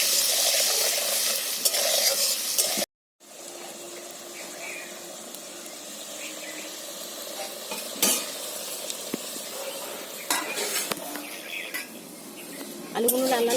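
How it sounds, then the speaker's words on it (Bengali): Potato pieces seasoned with turmeric and salt sizzle steadily in hot oil in a wok, a soft continuous crackle with occasional stirring clinks and scrapes and a brief dropout early on. "আমি আলুটাকে লাল লাল করে ভেজে নেব।"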